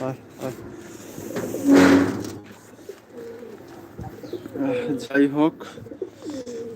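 Pigeons coo in short, low throaty bursts close by, mixed with a person's voice speaking at intervals.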